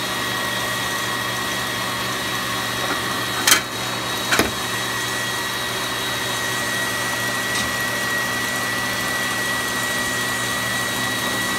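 A kitchen machine running on high, whipping cream into butter, gives a steady loud motor whir throughout, with a couple of brief knocks partway through.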